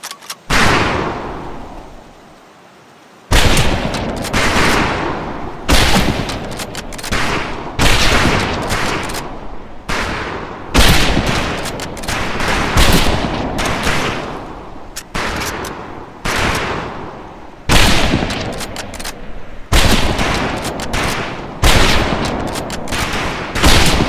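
Rifle volleys crack out at a firing range in the video game Medal of Honor: Pacific Assault, a long series of loud, sharp shots in quick irregular succession with short gaps between them.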